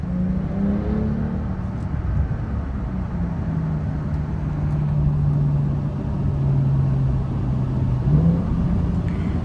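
A 2024 Porsche 911 Turbo S in Sport Plus mode with its timed extra-power boost engaged and an 8-speed PDK gearbox gives a steady, droning engine note heard from inside the cabin, with the pitch lifting slightly toward the end.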